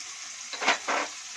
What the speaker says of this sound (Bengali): ভালো করে সব মিলে একসাথে ভালো করে কষে নেবো।